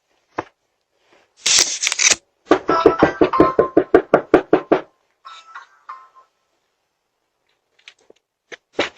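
Knocking on a door caught on a Ring doorbell camera, a quick run of about a dozen sharp raps followed by a few scattered knocks, close and loud against near silence.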